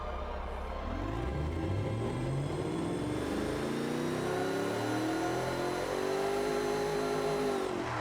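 A carbureted supercar engine in the Automation car-building game revs steadily upward, a loud, smooth rising roar with no other sounds, holding strong before cutting off at the very end.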